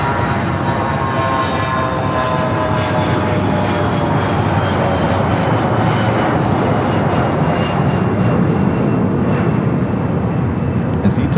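An ITA airliner powers up and rolls for takeoff at LAX, a loud broad jet roar with rising whining tones sweeping upward, continuous and near throughout.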